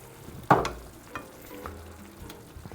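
A smash burger is flipped on a hot griddle among onions, with one sharp scrape and slap followed by a low, fairly quiet sizzle and a few light clicks, without talk.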